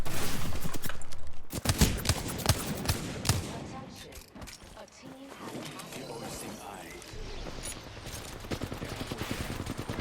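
Hemlock burst rifle fire in a shooter game: rapid, sharp bursts of shots, loud at the start, then trailing into scattered quicker pops over busy game noise while a voice talks.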